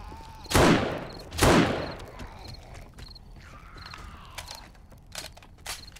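Gunfire at a zombie in 7 Days to Die: two loud, sharp shots about a second apart, followed by quieter in-game clatter and small clicks and thuds.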